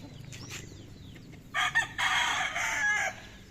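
A rooster crows loudly a couple of times near the end, after softer clucking and chirping from chickens in the background.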